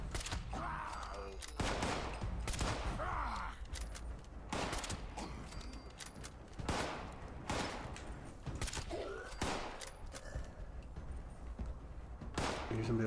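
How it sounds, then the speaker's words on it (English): Video game gunfire in rapid repeated bursts, loud sharp cracks spaced every second or so through the whole stretch, with faint talk between shots. "Here's somebody else shooting."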